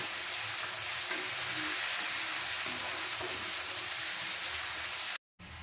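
Ginger and garlic fry in hot oil in a pan for traditional Assamese black sesame chicken, giving a steady, close, dense sizzle that runs continuously before cutting out briefly near the end.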